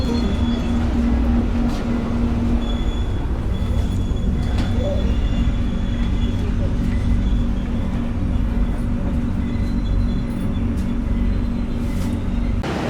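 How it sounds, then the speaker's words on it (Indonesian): The Mutiara Timur Fakultatif train, hauled by a red locomotive, rolling into Sidoarjo station, heard from on board as a loud, continuous rumble of wheels and carriage with steady droning hum and faint occasional squeals. "kereta api Mutiara Timur Fakultatif telah tiba di stasiun Sidoarjo"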